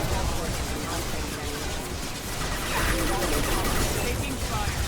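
Gunfire fills a firefight in the video game Mass Effect 2 as a continuous dense roar of shots and impacts, loud and unbroken, with a voice talking over it.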